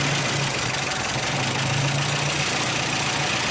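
A 1929 Whippet car engine idling after running a while, with a carburetor acting up, giving a continuous even rumble with a faint hum, close and alone.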